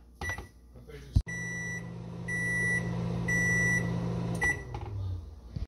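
Kitchen appliance timer for banana bread baking: short electronic beeps in three bursts, with a steady low appliance hum running underneath, close and clear.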